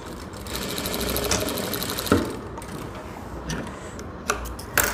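A sewing machine runs steadily while stitching a blouse, laying a rough basting line beside a canvas layer. It makes a close, continuous whir with fast regular ticking, broken by a few sharp clicks.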